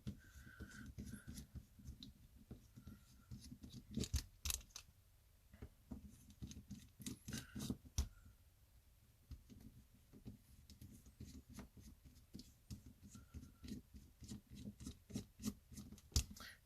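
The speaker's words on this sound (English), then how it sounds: "Take a small Phillips here, go to these 4 screws." Small Phillips screwdriver backing out four screws from the caseback of a Casio W-217H digital watch: faint, close clicks, scrapes and light metallic ticks scattered over the whole span, with a few sharper taps and no speech.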